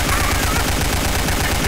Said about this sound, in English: I'm gonna shoot everywhere I go